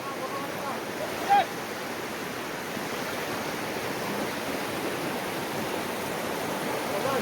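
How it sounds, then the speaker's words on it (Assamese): River water rushes past a sluice gate at Bhutan Chowki, a steady broad roar of flowing water at constant strength with one faint knock early on. "ঢৌ চাওক নদীৰ এয়া ইমান ধাৰ বৈ আছে"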